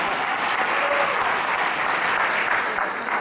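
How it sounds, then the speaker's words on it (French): A conference audience breaks into loud, dense applause, many hands clapping together in a sustained, even roar throughout with no speech over it. "vous pouvez applaudir."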